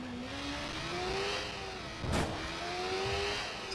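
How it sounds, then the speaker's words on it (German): A motorcycle engine in the video game Watch Dogs holds a steady mid-pitched drone at moderate level, shifting slightly in pitch, with a brief burst of broadband noise midway. "Das Motorrad ist zwar schnell, aber es steuert sich scheiße."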